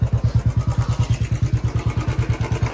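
A Triumph motorcycle engine on a rough Nepali road, putting out a loud, close, evenly pulsing idle thump at a steady rhythm, alone with no voices.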